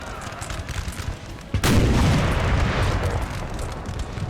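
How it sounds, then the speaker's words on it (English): A single heavy artillery boom lands midway through a Napoleon Total War video game battle, followed by a rumbling wash of distant battlefield noise. "Artillery is right there."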